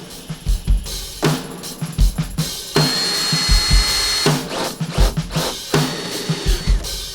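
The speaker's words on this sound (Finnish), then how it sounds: "Noin, nyt on reijät porattu" Holes are drilled into camper van sheet metal for fitted panels, a power drill whirring in short bursts with clicks and clunks of handling between, close and fairly loud, no talking.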